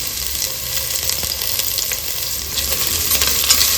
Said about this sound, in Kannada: ತುಪ್ಪ ಬಿಸಿಯಾಗಿದೆ. 1 ಈರುಳ್ಳಿನ ಈ ಥರ ಸ್ಲೈಸಾಗಿ ಕಟ್ ಮಾಡಿ ಹಾಕ್ಕೊಳ್ತಾ ಇದ್ದೀನಿ.